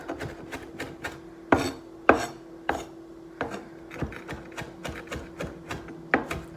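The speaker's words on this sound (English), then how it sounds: "Chopping up all the big pieces." A knife roughly chops herbs on a board in quick, uneven strokes, with a few louder thumps among the lighter taps; no voices.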